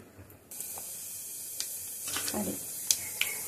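Fenugreek powder, turmeric and mustard seeds hit hot oil in a pan for an egg curry, giving a soft hiss with brief spits and pops that builds over a few seconds.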